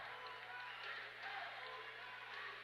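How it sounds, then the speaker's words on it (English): Home fans at a women's college basketball tournament quarterfinal stand and applaud as the game winds down, a steady, dense wash of clapping and crowd noise over a low hum, heard from some distance. "The Duquesne faithful are standing and applauding."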